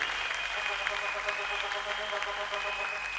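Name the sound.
congregation clapping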